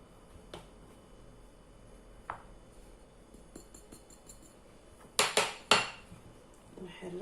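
Cake batter with dried prunes stirred in a bowl, sparse utensil taps and clinks against the bowl followed by a cluster of louder scraping knocks near the end, no speech.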